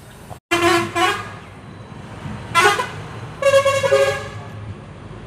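A departing train sounds its horn in a series of loud, close, tonal blasts: two quick toots, a short pause, a brief single blast, then a longer wavering one over a low rumbling background.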